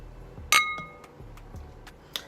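Glasses of wine clink together in a toast: one sharp, ringing chink that fades slowly, followed by a few fainter glassy taps and a final light clink in a quiet room.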